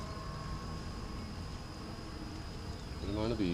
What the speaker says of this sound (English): Good amount of bees.